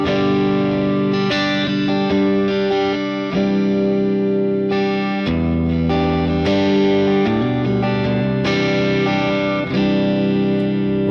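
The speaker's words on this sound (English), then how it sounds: "I prefer to use the wide reverb, because most of the time in the worship music you need to play as a strumming." An electric guitar played through a Fractal preset for worship music rings out in strummed chords, bathed in wide reverb and effects, with sustained chord changes for about eleven seconds and no talking.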